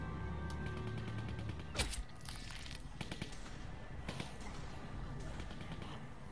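Several sharp gunshot cracks in The Walking Dead Season 2 video game, scattered irregularly with a prominent shot early on and fainter reports later, set against a low ambient game backdrop.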